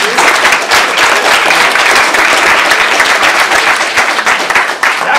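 A large crowd applauds loudly and continuously, a dense wash of clapping that barely dips throughout.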